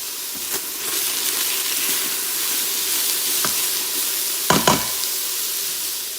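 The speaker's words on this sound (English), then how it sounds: "I'm going to put it on saute, on high, and get my vegetables sauteing in there first." Vegetables sizzle and hiss on high saute in an Instant Pot Ultra, a steady close frying sound with a few brief clicks and stirring knocks near the end.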